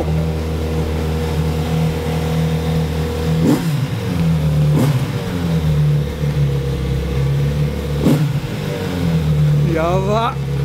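A Kawasaki Z900RS motorcycle engine idles loudly up close and is revved in several sharp bursts, with brief speech audible in the background.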